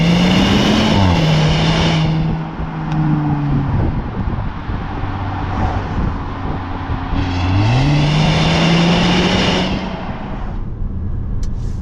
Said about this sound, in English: You hear a little bit of the turbo, but that's okay. It gives a little hissing noise.